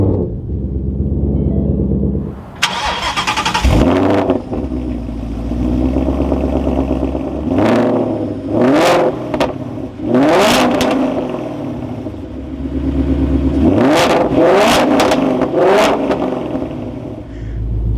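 A 2019 Ford Mustang Saleen 302 Black Label engine cranks and catches, then settles into a deep rumbling idle broken by several sharp, loud revs, close up.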